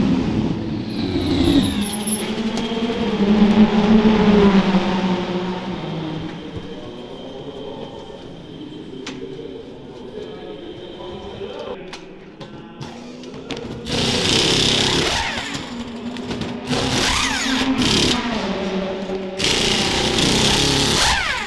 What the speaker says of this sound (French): montrer un pit stop, parce que c'est assez impressionnant avec le refueling, souvent changement de pneus